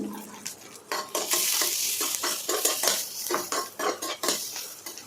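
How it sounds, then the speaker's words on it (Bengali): Onions frying with turmeric and salt in a pan for pulao, stirred with a metal spatula: a continuous sizzle broken by rhythmic, repeated scraping strokes against the pan, close and clear, with no talking. "হালকা নাড়িয়ে নিলাম"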